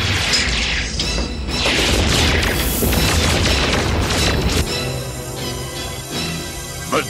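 A loud explosion destroys the Dragonfire command center in a G.I. Joe video game, a sustained crashing boom and rumble that fades into ringing, crackling debris with a final small pop.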